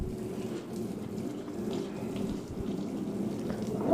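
Water runs steadily from a tap during hydro dipping in a soft, continuous splashing stream, fairly quiet and close, with no voices.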